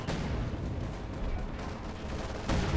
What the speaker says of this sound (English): What is bombarding? Oh, it's sector artillery!